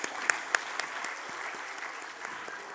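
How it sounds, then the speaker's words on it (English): An audience at a smart mom contest applauds in a continuous, fairly faint wash of clapping, with a few sharper close claps standing out near the start. "A huge round of applause."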